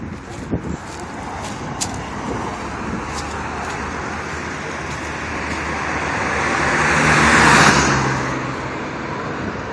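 Cars and other road traffic passing outdoors on a highway, a steady broadband roar that swells as one vehicle draws close and goes by late in the stretch, with no voices.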